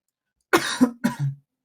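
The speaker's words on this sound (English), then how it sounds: "a cough apparently" Two short coughs from one person, close and loud against silence, each a sharp burst with a brief throaty tail.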